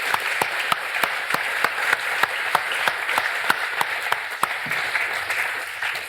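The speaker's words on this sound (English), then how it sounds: "I think we'll have a round of applause for that." An audience at a literary talk gives a steady round of applause, with dense, even clapping that holds at a constant level throughout and no talking over it.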